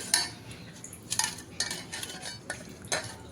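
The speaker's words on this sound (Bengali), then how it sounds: "প্রথমে আমি এখানে ডিমে একটু লঙ্কা গুঁড়ো, হলুদ গুঁড়ো আর লবণ দিয়ে মেখে নিচ্ছি।" Eggs being mixed with chili powder, turmeric and salt, a utensil clinking and scraping against a bowl in a handful of quick, fairly faint taps, with no talking.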